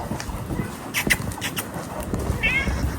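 Several short, high-pitched meows from a small kitten over faint rustling and shuffling.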